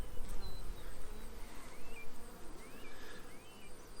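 Honeybees in an open hive during a mid-July inspection, a dense continuous buzzing with individual bees flying close past, steady and fairly loud, no speech.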